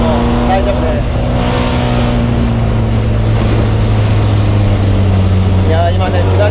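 A classic Fiat 1100B Sport Barchetta drives downhill at a good pace, its engine humming and wind rushing steadily close by while someone talks over it.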